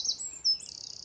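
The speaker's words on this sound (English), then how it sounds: "Listen to the birds." Birds chirp outdoors on a homestead farm after a storm. There are thin high whistles and tweets, clear and fairly close, with a faint rhythmic insect-like ticking underneath and no talking.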